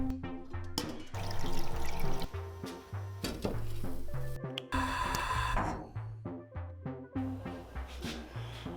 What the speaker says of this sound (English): Since I have all this raw sap just flowing through my house, I'm gonna try to make some syrup out of it.